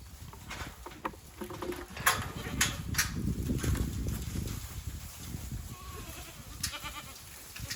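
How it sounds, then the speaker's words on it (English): Several goats bleat in a farmyard at moderate distance, a few short cries scattered among shuffling and rustling, fairly faint overall. "I'm going to let these goats out into the yard, let them eat some acorns so they're not so loud"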